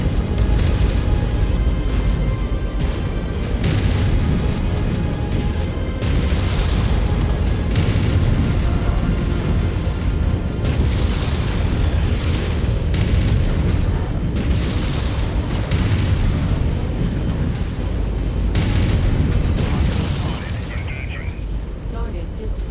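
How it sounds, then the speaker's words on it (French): Artillery shells bursting in the video game MechWarrior 5: Mercenaries, repeated booms and cracks scattered throughout amid battle noise, with someone talking over them. "Où elle est cette artillerie là qui nous canarde?"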